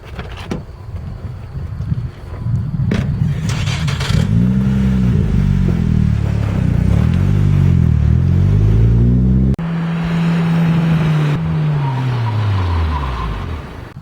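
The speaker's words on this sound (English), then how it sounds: "we're going to get a 60 to 0 braking test just for a baseline" A B15 Nissan Sentra with upgraded brakes revs up through several rising gear pulls, then a long falling engine note as it brakes from 60 mph to a stop, with wind noise throughout.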